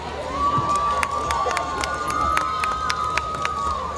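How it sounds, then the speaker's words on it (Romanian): A crowd cheers and shouts at an award ceremony of an international folk music and dance festival in Moinești, with a steady sustained tone and scattered sharp claps running through the fairly loud, continuous noise. "Felicitări și aplauze!"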